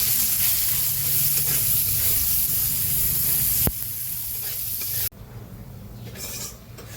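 Nigella seeds, garlic, chopped onion and turmeric fry in hot oil with a loud, dense sizzle that holds for several seconds, then cuts off abruptly and gives way to a quieter hiss with scattered clatter.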